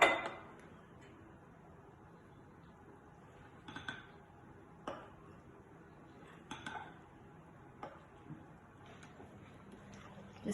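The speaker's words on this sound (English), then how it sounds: "Just incorporating all the flour as we go" A spoon stirs buttermilk, eggs and melted butter into a muffin mixture in a mixing bowl, giving sparse, intermittent clinks and taps against the bowl over a quiet background.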